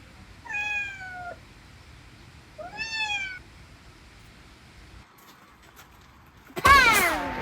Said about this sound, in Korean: 이 고양이들 이 낮에도 자꾸 들어오네.